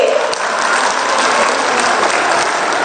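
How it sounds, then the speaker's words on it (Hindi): Loud, dense applause from an audience at a government benefit-distribution event in Godda, Jharkhand, held by the Chief Minister, a continuous wash of many hands clapping throughout with no voices standing out. "जोरदार तालियां आपकी ओर से"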